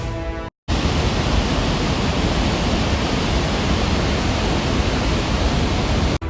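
The Gaganachukki waterfall on the Kaveri river at Shivanasamudra roars in a dense, constant wash of falling water, loud and unchanging apart from a brief dropout near the start.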